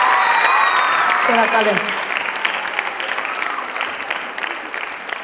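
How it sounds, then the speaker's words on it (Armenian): Audience applause from a crowd at an event, a dense wash of clapping that starts loud and steady, then fades slightly while continuing under a brief spoken thank-you from a voice. "նորից ծափահարենք նրանց"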